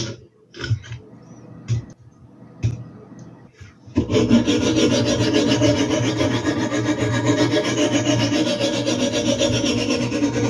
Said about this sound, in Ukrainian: візьмемо полтавський алмазний брусок 200 на 160, мідна олов'яна зв'язка